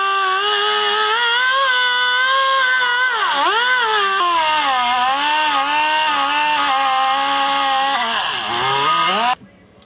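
A rotary power tool grinds and blends the port of an intake manifold being port-matched, a high, whining tone that dips and rises in pitch as the load changes, then cuts off abruptly near the end.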